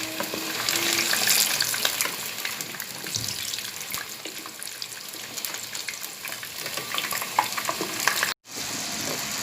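Pieces of battered dragon chicken frying in hot oil over medium heat, a steady dense crackling sizzle close up that runs unbroken, with a brief cut near the end before it resumes.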